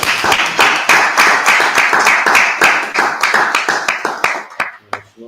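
A crowd claps in a steady, rhythmic burst of sharp hand claps close by for about four and a half seconds, then thins into a few scattered last claps and falls away.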